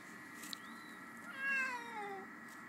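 A neighborhood cat meows outdoors, one drawn-out call that rises then falls, fairly close and clear over a quiet background.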